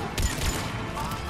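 Sniper rifle fire from Garrus in the sci-fi shooter Mass Effect 3 Legendary Edition, a couple of sharp booming shots in quick succession amid dense combat noise with a voice faintly present.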